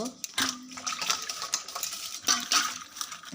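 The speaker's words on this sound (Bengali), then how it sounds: "আলু কাটা হয়ে গেছে আলুগুলো আমি ধুয়ে নেব" Cut potatoes being washed in water in a home kitchen, giving close splashing and sloshing with bright clinks and knocks against a bowl, in several short bursts, with no talk.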